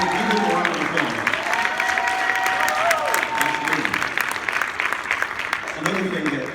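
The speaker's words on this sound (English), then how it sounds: "give them a round of applause" Audience applause fills a hall after a sales keynote speech at an Ardyss event: a steady, dense round of clapping with voices mixed in, holding loud for several seconds.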